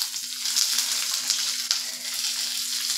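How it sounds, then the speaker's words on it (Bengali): Cashews and raisins fry in ghee with a steady, bright sizzle and faint crackle, close and continuous, with a low hum underneath and no talking. "ঘি দিয়ে কিন্তু কাজু কিশমিশটাকে ভেজে নেব"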